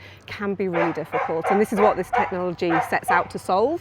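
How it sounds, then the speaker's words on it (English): An overactive, excitable dog yips and barks in the background at a busy fragrance fair, the short barks running on and off under continuous close-up talk. "there is a very overactive, excitable dog"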